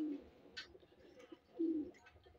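Pigeons cooing in a loft of racing and breeding birds, two low throaty coos in the first and final moments over soft background rustle, fairly close and moderately loud.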